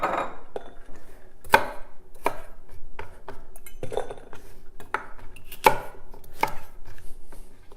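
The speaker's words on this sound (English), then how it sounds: "take our carrots, about 3 to 4 large carrots or 1 large carrot per adult, and then cut them into thirds" Knife chopping carrots into thirds on a cutting board while making corned beef and cabbage: a steady series of sharp, close thunks roughly every half second, with no talking.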